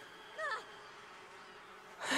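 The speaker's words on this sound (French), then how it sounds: "on est reparti avec les abeilles" Bees buzz in The Sims 4, with a short wavering buzz near the start and a louder, noisier burst at the end over a quiet background.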